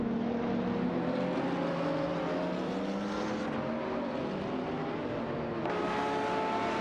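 Racing cars in a video game race, an Aston Martin DBRS9 and a Nissan 350Z GT300 among them, engines droning together in layered tones with a fresh engine note cutting in near the end, no talking.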